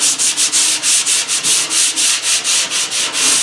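Sandpaper rubbed by hand over rusty metal on a Farmall H tractor, a loud close scratching in quick even back-and-forth strokes with no break.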